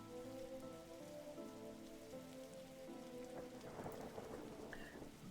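Steady rainfall with distant thunder rumbling in a video game, a continuous wash of drops on surfaces with soft harmonic music tones layered underneath and no talking.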